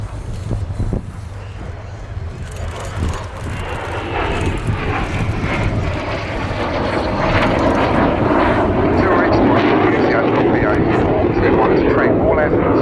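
A BAE Hawk jet from RAF Valley makes a low display pass at the 2012 Yeovilton Airshow, its engine roar swelling steadily louder and closer beneath a commentator's voice.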